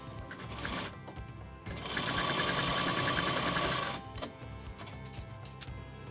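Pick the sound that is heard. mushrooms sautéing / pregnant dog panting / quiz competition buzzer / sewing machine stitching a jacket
sewing machine stitching a jacket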